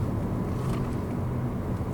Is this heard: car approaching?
yes